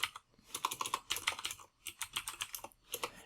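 Typing chat messages on a computer keyboard, quick close bursts of key clicks with brief pauses between words, quiet and alone.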